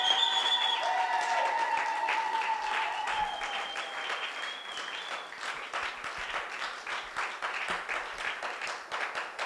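A church congregation breaks into loud, sustained applause that fills the room, with dense clapping that gradually thins and softens over several seconds.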